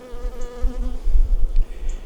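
Honey bees buzz loudly and close around an open, weak hive being worked in a farm yard, a steady droning hum with individual bees passing near the microphone.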